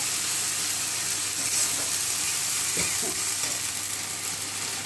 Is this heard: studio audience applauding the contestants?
no